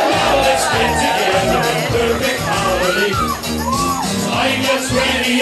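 Wedding guests cheer for newlyweds Mr. and Mrs. Davies, a loud, sustained crowd roar with whoops and shouts over steady background music.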